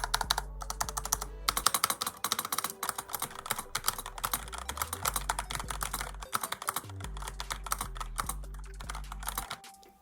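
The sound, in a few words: typing on stock wireless budget mechanical keyboard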